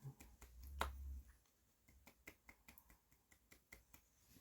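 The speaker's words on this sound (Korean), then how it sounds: "밤이라서 박수 작게 친 거예요." Soft hand claps at night near a bed: a run of quiet, evenly spaced claps, close and gentle, following a brief low thump, with no speech.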